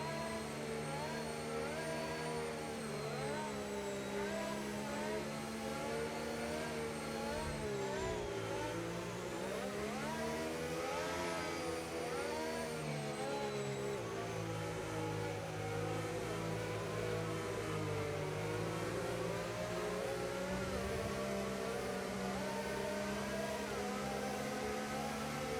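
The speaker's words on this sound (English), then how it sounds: "let's listen to that Williams engine" A Williams Formula racing car engine in a racing video game screams at high revs on the Saudi Arabia circuit, its pitch climbing and dropping through gear changes, loud and continuous.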